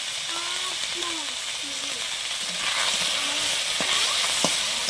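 Small mourola fish frying in hot oil in a home kitchen, giving a steady, close, loud broadband sizzle that runs throughout, with faint voices talking in the background.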